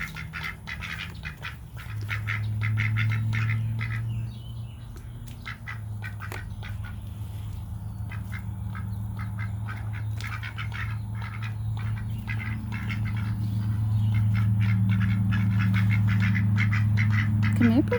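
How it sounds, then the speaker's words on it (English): Several backyard ducks quack and chatter steadily over a low constant hum, the busy calls continuing throughout, while other birds squawk nearby. "Duck, duck, duck."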